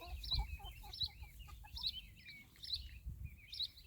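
Chickens cluck and chirp faintly in a quiet yard, soft repeated calls with low rustling underneath.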